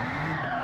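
Tires squeal in a sustained skid as a car drifts in Gran Turismo 7, a loud, steady screech over engine drone lasting under a second.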